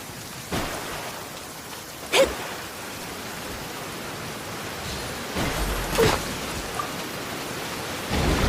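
Heavy rain pours in the video game Genshin Impact, a dense steady hiss broken by several soft rumbling swells like distant thunder, with no voices.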